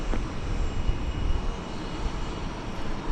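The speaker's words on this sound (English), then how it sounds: "that's Korean Air cargo flight 255" A Korean Air cargo plane, flight 255, at DFW Airport produces a continuous broadband engine rumble with a slight swell midway, heard without any talking.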